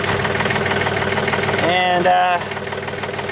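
A tractor engine idles at a steady, even rumble throughout, with a person talking over it close by.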